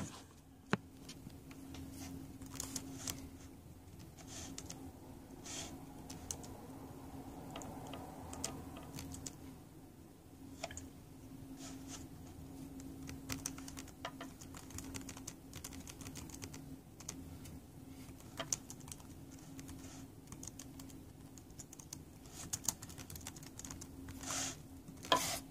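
Soft, quick keystrokes patter on a Lenovo 100s Chromebook keyboard as a passphrase is typed, irregular bursts of light clicks over a quiet room hum, no talking.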